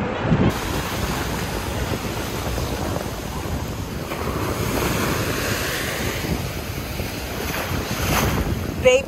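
Big, strong ocean surf crashing on a beach in Puerto Rico, a continuous loud roar of breaking waves mixed with heavy wind buffeting the microphone, no voices.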